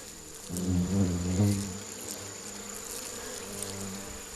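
Wasps, including hornets in an urban setting, buzz loudly and close for the first second and a half, then settle into a softer continuous drone.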